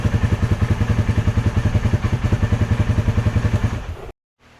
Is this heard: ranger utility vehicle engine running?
yes